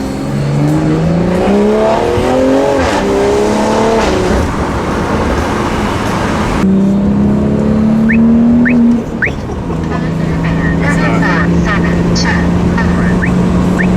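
A BMW M340i car engine fitted with a big turbo revs up and down loudly, with rising and falling pitch sweeps and shifts between gears, plus road noise throughout.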